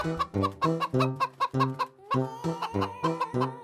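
Cartoon chickens clucking in a coop, a rapid busy series of close, loud bird clucks with short pauses between bursts.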